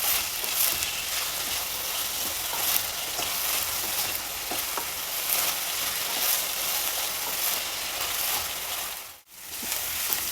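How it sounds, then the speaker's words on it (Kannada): Onion and green peas fry in a pan for a paneer and pea masala curry, a loud, continuous close sizzle with stirring scrapes that briefly cuts out near the end, no one speaking. "ಈರುಳ್ಳಿ, ಬಟಾಣಿ ಎಲ್ಲ ಚೆನ್ನಾಗಿ ಫ್ರೈ ಆಗಿದೆ."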